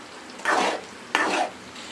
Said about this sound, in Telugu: ఇప్పుడు మనకు చికెన్ ముక్కలు కూడా చక్కగా వేగిపోయినాయి